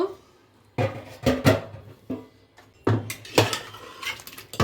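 A pressure cooker lid is opened over cooked young jackfruit and potatoes for a vegetarian dalna, with a few sharp metallic clanks and clatters separated by short quiet pauses, close and fairly loud.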